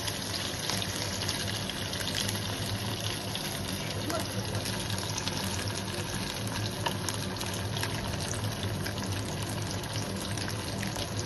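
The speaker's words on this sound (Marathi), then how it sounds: "आता ह्यामध्ये मी मच्छीची तुकडी घालते. हे आपल्याला किंचितसे फ्राय करून घ्यायचे आहे." Pieces of surmai fish frying in a pan with browned garlic, giving a steady, even sizzle that hisses without pause from start to finish.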